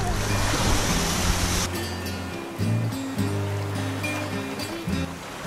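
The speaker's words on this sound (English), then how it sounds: "The waves there are big enough to have fun in, but gentle enough for a little family float." Ocean surf rolls onto the sandy shore at Waimea beach on Oahu's North Shore as a steady broadband wash, with some wind noise over the microphone and no talking.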